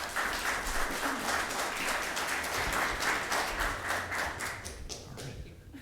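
An audience applauds as a speaker is welcomed to the stage, dense steady clapping near and loud that thins out and fades toward the end.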